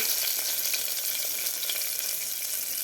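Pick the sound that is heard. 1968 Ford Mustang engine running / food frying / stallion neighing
food frying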